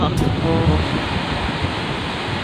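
Loud, steady roaring rush of typhoon wind and a swollen, turbulent river, a dense broadband wash with no breaks.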